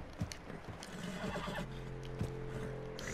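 A horse in Red Dead Redemption 2 whinnies, with hoof clip-clops and game ambience around it, a close, moderately loud neigh followed by sustained snorting tones.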